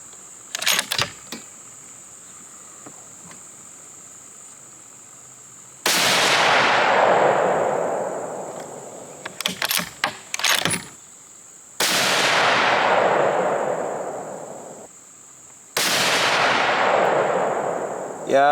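Three loud .308 Winchester rifle shots fired in a group, each a sharp blast followed by a long echoing decay, spaced several seconds apart, with a few clicks of the action between.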